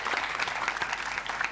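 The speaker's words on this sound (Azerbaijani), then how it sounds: "Alqışlayaq." Studio audience on a Azerbaijani TV quiz show claps in a dense, steady burst of applause, fairly close and unbroken for the whole moment, with no talking over it.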